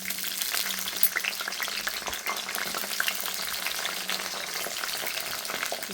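About ten chopped green chilies hit hot oil and fry with a dense, crackling sizzle, close and continuous throughout, with light stirring.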